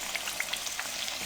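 Potato slices (aloo katli) frying in oil on a low flame, a steady close sizzle dotted with small crackling pops, alone without talk.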